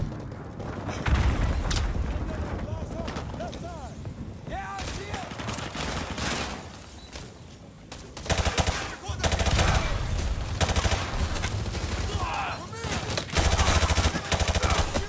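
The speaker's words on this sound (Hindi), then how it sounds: "भाई कितना ग्रेनेड डाल रहे हैं ये लोग।" Dense gunfire and grenade blasts in the Call of Duty Modern Warfare 2 Remastered campaign, continuous heavy bursts and booms at close range with brief lulls, with a voice faintly under the combat.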